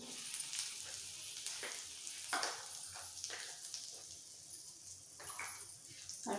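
Fenugreek seeds and asafoetida sizzle in hot oil for South Indian sambar, a faint, steady frying hiss punctuated by brief crackles and spoon stirring.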